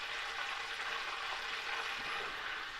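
Shrimp cooking in hot oil in a pan give off a steady, dense sizzle that holds evenly throughout, close up, with no voices over it.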